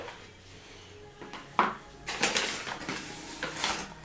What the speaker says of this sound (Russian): И вилкой уже тяжело становится месить